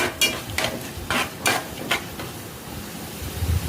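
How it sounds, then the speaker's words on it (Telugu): Tempering spices of mustard seeds, cumin and lentils fry in hot oil in a pan, several rhythmic scraping stirs over a soft crackling sizzle, close and fairly loud, with no talking. "ఆయిల్ వేసి పోపు దినుసులు, ఆవాలు, జీలకర్ర, మినపప్పు, పచ్చెనగపప్పు, పప్పులు కొంచెం కలర్ చేంజ్ అయ్యే వరకు ఫ్రై చేసుకోవాలి."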